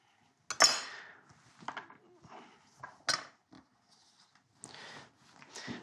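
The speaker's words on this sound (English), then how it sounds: "So just cut a few little onion kind of things that we can put on." A knife cuts red onion on a chopping board in a home kitchen, giving a few separate, close knocks and clicks of the blade against the board with quiet pauses in between and no talking.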